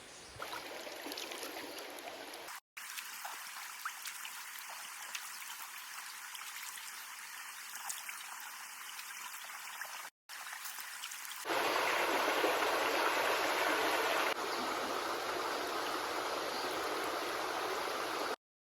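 A river stream flows near a campsite in the early morning, a continuous broadband rush of water that briefly cuts out twice and grows louder and closer in the final stretch.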